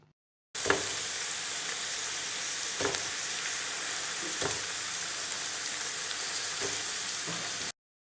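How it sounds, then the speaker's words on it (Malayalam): Chicken pieces and softened capsicum sizzle together in a pan, a continuous close frying hiss with a few sharp scraping stirs or clatters spaced through it, no speech over the sound. "നമ്മുടെ ക്യാപ്സിക്കം ഒന്ന് വാടിയിട്ടുണ്ട്. അതിലോട്ട് നമുക്ക് ഇനി ചിക്കൻ ചേർത്ത് കൊടുക്കാം."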